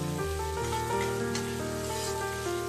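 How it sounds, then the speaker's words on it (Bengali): Onion and tomato frying in oil with a little salt for a Bengali boal fish masala, giving a steady, close sizzle that runs alongside sustained musical tones. "দেখো, এটা পেঁয়াজ আর টমেটোটা আমার খুব সুন্দর করে ভাজা হয়ে সঙ্গে তেল বেরিয়ে গেছে।"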